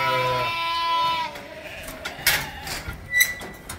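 A sheep gives a loud, close bleat at the start during herd work, followed by scattered clanks and rattles of handling equipment.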